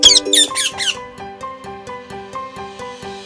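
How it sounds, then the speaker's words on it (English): Parrot squawks: a few loud, harsh, grating bursts at the start, followed by a steady plucked or music-box style tune playing alone with no talking. "Parrot."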